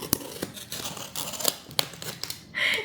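Scissors snip through parcel packaging several times in a close, irregular series of sharp cuts, with a rustle of wrapping at the end.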